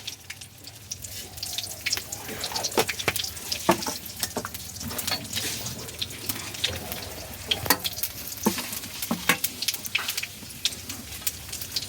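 Black cumin seeds sizzle and crackle in hot oil, popping in quick irregular bursts over a low hiss, with faint scraping now and then.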